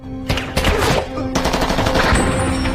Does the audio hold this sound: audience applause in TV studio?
no